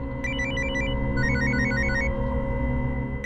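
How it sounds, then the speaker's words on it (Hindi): A telephone rings with a bright electronic trill in repeated bursts, loud and close, over a low background hum. "फोन आ रहा है"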